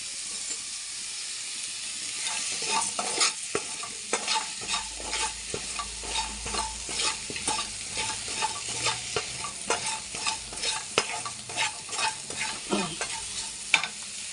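Eggplant gojju frying in a pan with salt added, a steady sizzle broken by a rapid run of scraping spoon strokes as it is stirred, close and fairly loud, with no talking.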